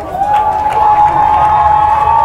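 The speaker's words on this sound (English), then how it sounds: "Kickoff here, the crowd gets into it" A stadium crowd cheers at the kickoff of a Mighty Mites youth football championship game at Darling Stadium, a loud sustained roar of shouting and clapping with a shrill whistle-like tone running through it.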